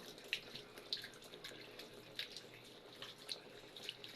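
Water runs steadily from a tap while a child is bathed, a faint, even flow with small splashes and drips recurring throughout.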